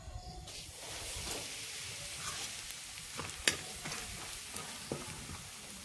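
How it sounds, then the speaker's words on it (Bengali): Dried coconut fries in oil in a pan, a soft steady sizzle with scattered stirring scrapes and clicks and one sharp tap midway, close and unaccompanied by speech. "এবার আমি শুকনো নারকেলটা দিয়ে দেবো, একটু হালকা করে ভেজে নেবো"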